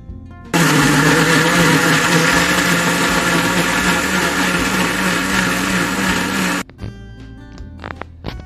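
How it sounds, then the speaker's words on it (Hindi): An electric mixer grinder whirs loudly and steadily for about six seconds, blending tomato and cashew nuts into a gravy, then cuts off abruptly and leaves a few faint clatters. "अब मैं इसका एक मिक्सर लगाऊंगी।"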